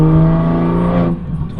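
A Toyota Supra time attack car climbs Pikes Peak at low speed, its engine giving a steady, smooth drone for about a second before the note drops away and quietens.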